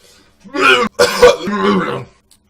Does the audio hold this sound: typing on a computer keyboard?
no